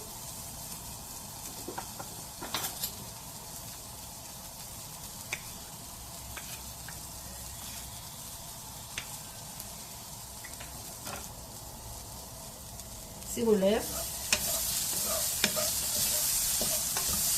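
Chopped onion frying in a spoonful of oil in a pan, a quiet, steady sizzle with occasional stirring clicks, and a louder burst of sizzling as drops of water hit the pan; someone speaks briefly.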